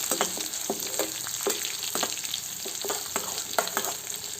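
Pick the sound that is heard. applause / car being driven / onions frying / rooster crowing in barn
onions frying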